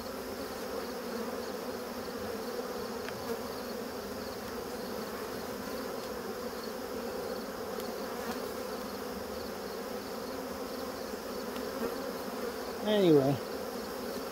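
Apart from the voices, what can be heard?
honeybees buzzing around an open hive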